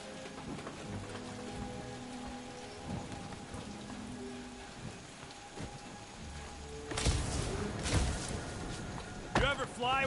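Steady rain falls in the Guardians of the Galaxy video game, a continuous wash of patter beneath the characters' conversation, swelling heavier in bursts late in the scene.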